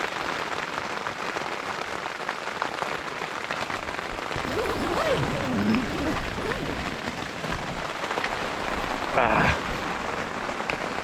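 Steady rain patters on a tent during a storm, a dense close hiss of drops on fabric that continues throughout, with a brief louder spatter near the end and a voice speaking briefly.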